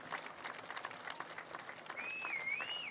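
Audience applause at a Mike Pence campaign event at Weldall Manufacturing in Waukesha, steady distant clapping from a crowd, joined near the end by a loud sustained whistle.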